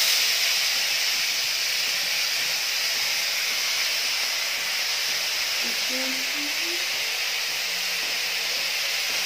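Fish is slipped into hot oil and fries with a loud, continuous, close hissing sizzle that fills the whole stretch, with a faint voice murmuring underneath partway through.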